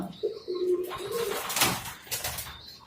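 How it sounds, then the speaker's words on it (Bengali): Jacobin pigeons coo in a pigeon room, a low soft cooing rising and falling over about three seconds with a higher bird call at the start and end. "তো এই হচ্ছে আমার কবুতরগুলা"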